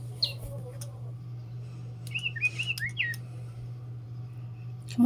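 Small birds give sparse chirps and short whistled tweets, a few bright calls early and a quick burst in the middle, over a low steady hum, ending on a sudden louder sound.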